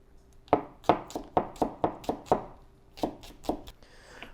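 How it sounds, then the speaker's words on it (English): A knife chops green onion on a cutting board in about eight quick, evenly spaced close cuts, then a short pause and two more chops, with no talk. "And then in the opposite direction of all those, chop across."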